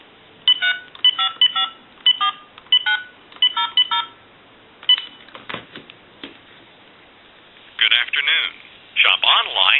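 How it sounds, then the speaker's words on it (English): Touch-tone dialing on a three-slot payphone converted for bar or nightclub use, bursts of quick keypad tones calling a time and temperature line, then a short pause and further ringing or recorded tones, with clicks from the handset between. "we'll call, say, like a time and temp number, and then we're going to hang this phone up that we're dialing with"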